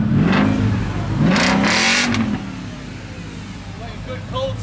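A V8 Volkswagen Touareg with a chopped exhaust revs up in a couple of loud rising and falling bursts close by, then settles to a rough idle, with people talking over it.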